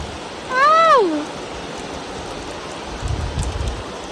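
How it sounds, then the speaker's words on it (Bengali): Heavy rain pours steadily outside a shop, a constant dense hiss with a short rising-and-falling whistle-like tone early on and a few low rumbles near the end. "কি বৃষ্টি হচ্ছে।"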